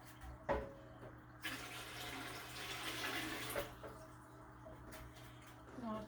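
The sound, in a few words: water running from tap into canner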